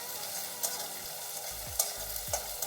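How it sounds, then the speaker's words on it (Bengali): Garlic and onion frying in a pan for a Bengali taro leaf mash, a steady close sizzle with a few quick scraping stir strokes and low knocks against the pan, no voices. "রসুন আর পেঁয়াজ আমি একটু ভালো করে ভেজে নেব"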